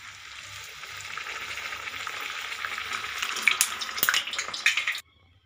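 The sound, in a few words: masala puri frying in hot oil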